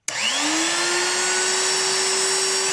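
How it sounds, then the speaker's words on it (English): A motorized whine spins up and holds a steady high pitch, close and loud, a Black and Decker Shorty electric drill running continuously with no talking. "I'm gonna drill my tray here."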